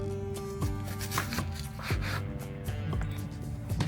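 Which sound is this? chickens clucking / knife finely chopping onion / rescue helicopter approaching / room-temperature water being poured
knife finely chopping onion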